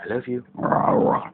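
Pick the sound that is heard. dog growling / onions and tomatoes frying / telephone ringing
dog growling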